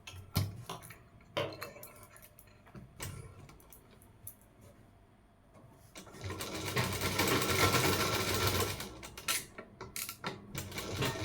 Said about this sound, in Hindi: आप इसी तरीके से दूसरे भाग में भी आप सिलाई लगा लो।